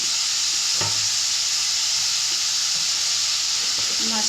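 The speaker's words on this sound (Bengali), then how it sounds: "তারপরে আমি মাছটা ভেজে নিচ্ছিলাম" Small morola fish, rubbed with salt and turmeric, fry in a pan with a loud, steady, close-up sizzle and hiss that runs unbroken throughout.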